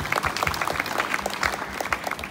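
An audience at an Indonesian foundation's flag ceremony bursts into dense, lively clapping, close and continuous throughout the short burst.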